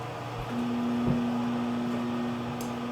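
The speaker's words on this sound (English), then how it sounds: "I am going to nuke these for 30 seconds to make them horrible" Steady low hum of a microwave oven running while heating mug cakes for frozen hot chocolate cake, a constant drone holding for most of the stretch with a faint click near the start and a brief high chirp late on.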